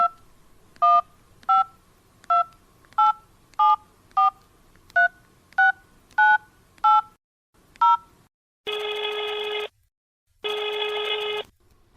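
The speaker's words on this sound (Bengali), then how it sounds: "আমি ফোন করছি" A telephone number is dialed in a sequence of about a dozen short, evenly spaced touch-tone beeps, followed by two longer ringback tones with a gap between them, clean and close.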